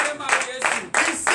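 A church congregation applauding at a Sunday service in Benin, rhythmic clapping in pulsing bursts with voices mixed in.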